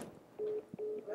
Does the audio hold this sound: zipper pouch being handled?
no